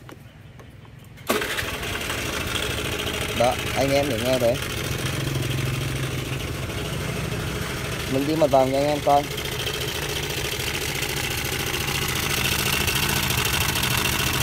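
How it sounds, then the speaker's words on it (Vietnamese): A tractor engine starts with a sudden burst and then idles at a steady, loud, continuous chug close by, while someone talks over it in Vietnamese. "ở đây là mình đang có một cái máy cày Ablate. Và bây giờ là mình sẽ để nổ cho anh em coi."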